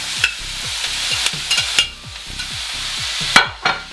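Ground beef with garlic and olives sizzles steadily in a frying pan while a utensil stirs it, sharp scraping strokes recurring every half second or so over continuous close frying hiss, no talking.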